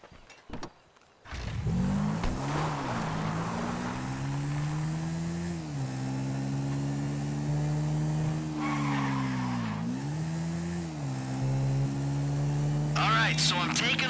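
Car in the video game GTA 5 driving with a loud, steady engine drone that rises and falls through gear changes, with tire skids and squeals around the middle and near the end and a few faint voices under it.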